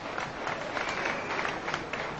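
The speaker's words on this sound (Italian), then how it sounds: "Pubblico già applaude e Jomod già alza braccio." The crowd at a Muay Thai bout between Jomhod Kiadatisak and Ole Laursen applauds after the result is read, a dense, steady wash of clapping and cheering that fills the arena.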